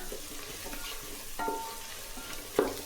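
Rice being sautéed in a pan, a fairly quiet close sizzle with spoon scrapes and a couple of sharper knocks against the pan.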